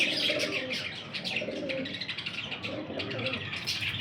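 Qasori breed pigeons cooing and chirping up close in a steady flurry of rhythmic coos, with people talking faintly alongside.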